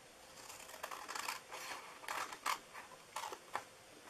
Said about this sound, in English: Let's cut these 2